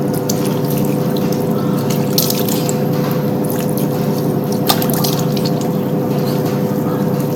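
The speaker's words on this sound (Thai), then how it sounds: "เดี๋ยวเราจะล้างน้ำเปล่าออกนะคะ" Plain water splashes and runs steadily while a face is rinsed, a continuous close wash of trickling and splashing with a few sharper splashes and no talking.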